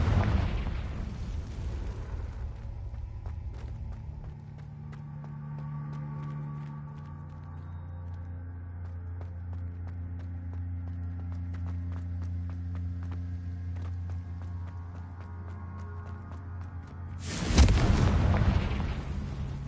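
Confringo spell explosions in Hogwarts Legacy: a loud burst opens, a low humming rumble lingers for many seconds with scattered crackles, then another heavy blast erupts near the end.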